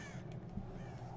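Crows caw in the video game Tomb Raider, a few rough calls rising over a steady low background hum, fairly quiet and with no voices over them.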